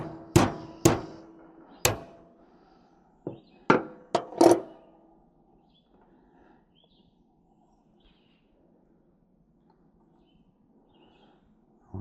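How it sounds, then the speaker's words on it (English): A mallet gently taps the top of a starter part on a 1997 Murray riding mower, giving about seven sharp, close knocks in an irregular run over the first few seconds, followed by near silence. "Let's see if we could gently tap the top with a mallet."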